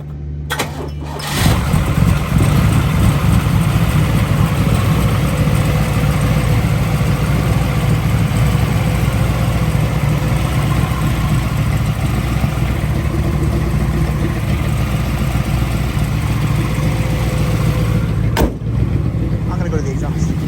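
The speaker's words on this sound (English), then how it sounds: "we're going to fire it up now and then drive it" A 1969 Chevrolet Camaro RS Z28 V8 cranks briefly and fires up, then settles into a loud, steady, rumbling idle that carries on close by, with faint voices underneath.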